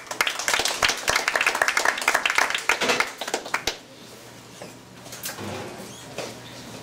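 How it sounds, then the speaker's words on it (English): A community meeting audience claps for a newly elected ANC commissioner, a few seconds of scattered, uneven clapping from a modest crowd that quickly dies away into room murmur and a low hum. "Please give her a round of applause"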